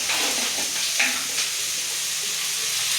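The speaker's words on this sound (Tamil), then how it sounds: "தக்காளி மஞ்சள் எல்லாம் போடுறாங்க." Tomatoes and turmeric hit a hot pan of oil for a mutton curry, raising a loud, steady sizzle and frying hiss, with a few stirring scrapes near the start.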